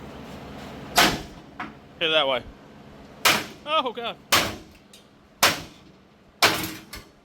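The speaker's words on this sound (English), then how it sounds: "Let's knock some rivets through the frame." Hammer knocking rivets out of a Chevy S10 truck frame during a six-link kit install: about seven sharp metallic bangs at irregular intervals, with a voice speaking between blows.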